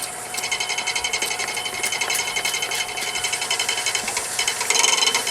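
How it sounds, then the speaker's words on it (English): Sander wet-sanding a Corian surface, a fast rhythmic buzzing whir that pulses steadily for several seconds with a gritty hiss of paper on the wet material, rising slightly at the end. "When sanding corian, best way to go about it"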